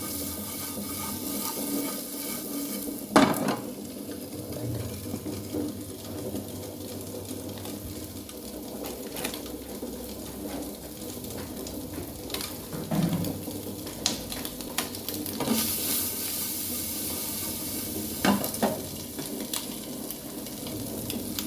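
Masala sizzles steadily in a pan with onion and curry leaves, a spoon scraping and clanking against the metal in irregular strokes, close and moderately loud.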